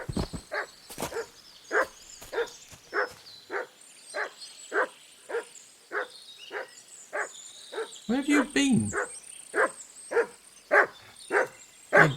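A dog in the video game Kingdom Come Deliverance 2 barks in a steady, evenly spaced series of sharp woofs, with someone speaking briefly partway through.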